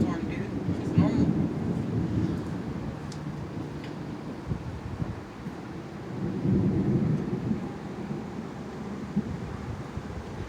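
Deep, sustained rumbling of nearby thunder during a thunderstorm, swelling twice in long rolling waves with a steady low roar underneath and no clear talking.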